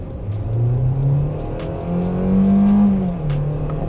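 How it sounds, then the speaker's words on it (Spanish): A Hyundai Venue Limited small SUV with automatic gearbox accelerates at full throttle in drive, its engine drone climbing steadily and loudly through smooth progressive shifts, with no talking. "Lo primero es mostrarles la aceleración. Lo pongo en drive. Voy a fondo 1800."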